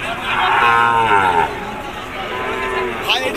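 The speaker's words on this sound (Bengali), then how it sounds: "শাহিওয়াল জাতের আরিয়া।" Sahiwal cattle at the Nilphamari cow market give a long, loud, close moo, then a second lower call after a brief dip, over a busy crowd murmur.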